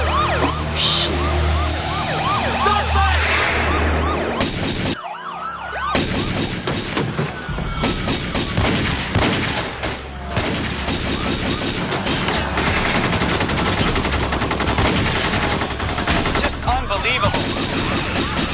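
Gunfire crackles through an action-movie bank robbery shootout, with rapid volleys and bursts mixed with sirens and dramatic noise, loud and dense throughout with a short drop near five seconds.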